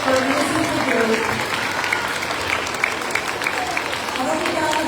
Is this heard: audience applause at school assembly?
yes